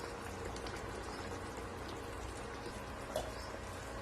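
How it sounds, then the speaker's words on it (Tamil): Thick lentil dumpling gravy (paruppu urundai kulambu) poured over the dumplings in a pan, a soft steady wet trickle and bubbling, faint and continuous with a small splash near the end. "நல்லா குழம்ப மேல ஊத்தி இந்த மாதிரி ஊத்தி விடுங்க மேல."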